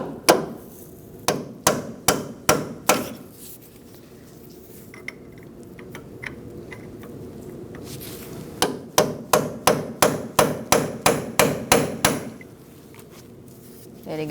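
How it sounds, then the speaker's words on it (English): A cold chisel is hammered into the rack notch on an inner tie rod of a 2004-2012 Chevrolet Colorado, giving sharp metallic hammer strikes close by. The strikes come in two quick rhythmic bursts, one at the start and one near the end, with quieter work between. "You're going to get a cold chisel or a punch in there, and you're just going to give it a couple whacks."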